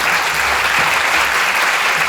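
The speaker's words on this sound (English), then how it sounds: "Huge round of applause for Lisa Davies." A large audience applauds Lisa Davies at a community gathering, a continuous loud wash of clapping with no pause.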